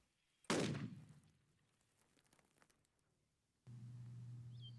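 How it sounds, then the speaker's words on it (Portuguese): A single sharp gunshot while hunting rabbits rings out, its echo trailing off across open ground, followed by quiet and then a steady low hum. "O tiro é instintivo e característico."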